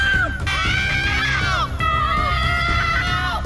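Several people screaming and shouting in panic at once, loud, high and sustained over crowd noise, with a brief dip before the cries rise again.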